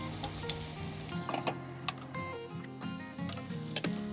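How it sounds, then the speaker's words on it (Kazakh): Onion fries in oil in a pan, giving a steady low sizzle with scattered sharp ticks and crackles, quiet and close, with nobody speaking. "үстіне үлкендеу пиязды турап, жақсылап қуырып аламыз"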